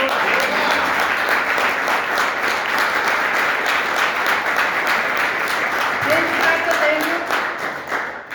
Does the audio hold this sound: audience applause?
yes